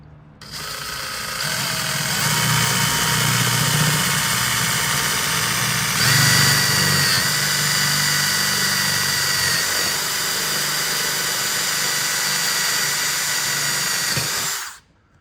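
A power drill bores rivet holes along a motorhome's upper belt line, whirring loud and close for about thirteen seconds with a brief surge partway through, then winding down.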